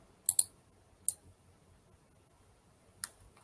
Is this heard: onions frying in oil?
no